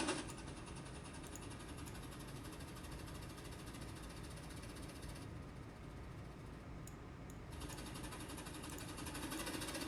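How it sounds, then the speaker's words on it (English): A model train engine creeping slowly down a hill gives off a steady, faint mechanical whir and hum, with a continuous motor drone and slight rattle and no voices. "You see, engine need to go very slowly down this hill."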